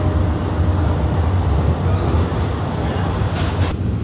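An AC EMU local train on the Sealdah to Kalyani line running at speed near Sodepur, heard from inside the carriage as a loud, steady, continuous rumble and rattle with no break, and no voices.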